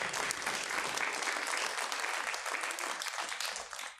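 An audience at a building program presentation claps loudly and steadily, the applause thinning as it ends.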